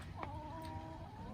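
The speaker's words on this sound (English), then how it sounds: "Hey, little chickens." Chickens give a short, faint cluck with a soft wavering note, heard briefly against quiet background noise.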